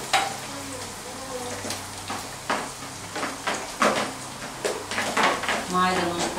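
Food frying in a pan on a home stove, a steady sizzle broken by repeated scraping and stirring clatters, close and fairly loud, with a voice occasionally talking over it.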